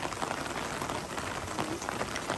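Rain falling on a wet Southern California night, a dense, even patter of drops hitting surfaces, steady throughout and fairly soft, with no voices.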